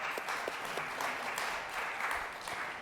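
Audience applause at a panel discussion in Scotland, a steady wash of clapping from a seated crowd, moderately distant and even, continuing throughout without any talking.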